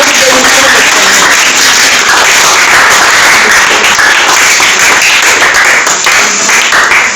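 Crowd clapping during a prayer gathering at an orphanage: a loud, dense, sustained wash of applause with voices mixed in, running steadily from start to finish.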